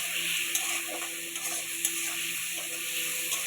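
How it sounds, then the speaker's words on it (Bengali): Potatoes frying in a pan with tomato, spices and crushed green chilli for a fish-tail curry, a steady close sizzle with light stirring clicks now and then, no talk. "আলুটা ভাজা ভাজা হোক"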